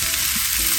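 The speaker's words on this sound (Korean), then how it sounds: "자, 추가할 양파도 넣어주고 다시 살살 저어줄게요" A pan sizzles steadily as onions fry, a continuous close crackling hiss with a faint scrape of stirring.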